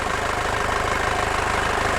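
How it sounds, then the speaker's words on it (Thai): A 2008 Isuzu Dragon Eyes turbo diesel engine idles close by with a steady, rhythmic low chug and a rough mechanical clatter, unchanging throughout, with no turbo whine. "ฟังเสียงเครื่องยนต์กันนิดนึงนะครับก่อนไปลองขับ"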